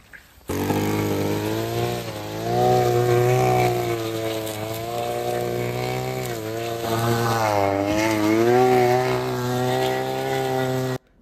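A small petrol brush cutter engine runs steadily at close range with a droning whine that rises and falls as the throttle changes, continuing throughout.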